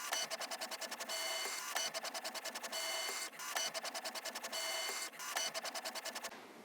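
A 3D printer prints robot chassis parts and servo brackets, its motors whirring in rapid stuttering pulses and steady tones that repeat in regular cycles, close and clear with no voices.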